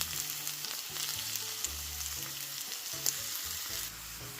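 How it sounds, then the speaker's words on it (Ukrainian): Onions and carrots sizzle and crackle steadily in oil and butter in a hot pan over medium heat, a soft continuous frying hiss with faint stirring noises and no talking. "Смажимо ось це все 2-3 хвилини. Смажимо на середньому вогні."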